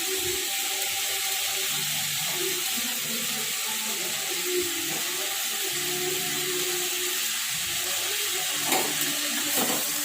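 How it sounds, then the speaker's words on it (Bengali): Thin-cut potatoes stir-frying with salt and turmeric, a constant soft sizzle and hiss with faint occasional stirring, heard close and without speech. "হলুদ দিয়ে কিছুক্ষণ নাড়াচাড়া করবো"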